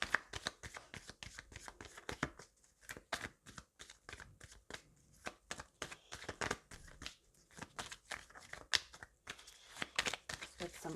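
Moonology oracle cards shuffled by hand, a dense run of quick papery riffles and flicks that keeps going steadily at close range, with a brief soft voice now and then.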